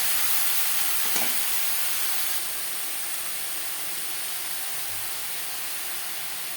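Soybean chunks and potatoes frying in a pan, steady loud sizzle and hiss with a brief scrape of stirring near the start, close and continuous, no voices.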